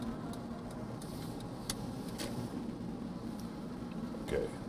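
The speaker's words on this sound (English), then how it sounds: "there's a lot of cars here" Cars pass by in traffic, heard from inside a moving vehicle at night near a roadwork area, a steady low rumble with a few brief louder swells and faint clicks.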